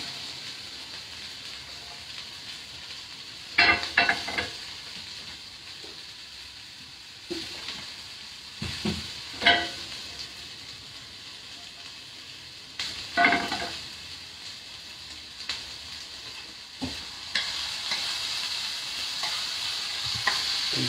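Oil heats in a pan in a home kitchen and crackles with a steady hiss, broken by several louder bursts of frying and stirring scrapes spaced a few seconds apart.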